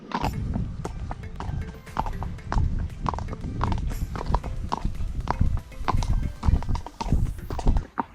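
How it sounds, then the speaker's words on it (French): A horse's hooves walk on an asphalt road, a steady rhythmic clip-clop of sharp close hoof strikes continuing throughout, with faint rustling and creaks of tack in the background. "j'adore entendre le pas d'un cheval sur le goudron"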